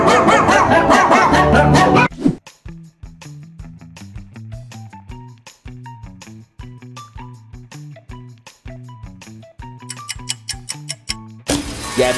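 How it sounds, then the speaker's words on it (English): A meme dog barks over and over in yappy, rhythmic bursts that make a musical, song-like pattern, loud and close, framed by brief louder noise at the start and end. "Gabby the Dog"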